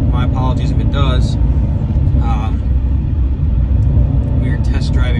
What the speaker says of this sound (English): We are test driving right now a C7 Corvette Stingray